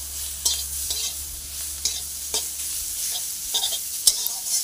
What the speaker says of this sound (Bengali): এবারে ভালোভাবে নেড়ে নেব